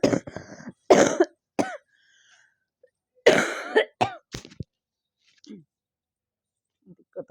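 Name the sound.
coughing and throat clearing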